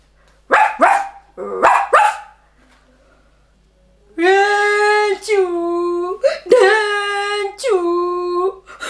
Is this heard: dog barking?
yes